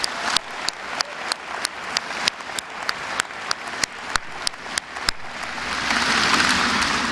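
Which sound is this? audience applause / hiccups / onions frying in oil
audience applause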